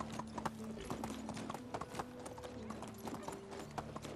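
A horse's hooves clip-clop at a steady trot in the medieval game Medieval Dynasty, rhythmic close footfalls continuing under someone speaking.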